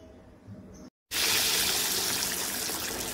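Hot oil sizzling loudly and steadily as chicken vada goes into the pan for frying, a dense continuous hiss that bursts in suddenly after a brief quieter moment and then holds close and strong.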